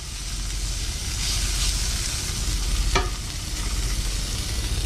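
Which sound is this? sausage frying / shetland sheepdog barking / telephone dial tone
sausage frying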